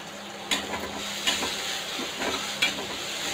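Green chillies and onion sauté lightly in a pan for adai dosa batter, a soft continuous sizzle broken by a few sharp scrapes of a stirring spatula.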